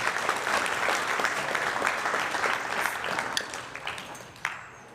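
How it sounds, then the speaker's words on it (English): A crowd at a high school athletics hall of fame induction ceremony gives a steady round of applause, fairly distant and sustained, fading toward the end with a few last claps. "One more round of applause."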